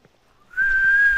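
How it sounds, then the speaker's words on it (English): A person whistles a single steady, sustained note that starts softly and swells quickly to full loudness, held close and clear over faint background sounds during a stealth stretch of The Last of Us on PS3. "I'm whistling."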